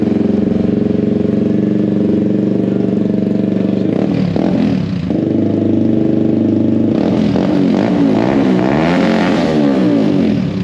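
Malaguti 150 scooter engine running loud and close at a raised idle, a steady buzzing drone with a brief dip and a couple of throttle blips that shift its pitch.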